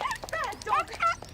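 A dog gives a quick series of high, close yips and whimpering barks in short, uneven bursts.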